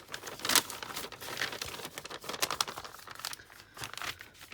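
A paper gift bag is folded by hand, with soft crinkles and crisp crumples coming close and quiet, in uneven bursts with brief pauses between.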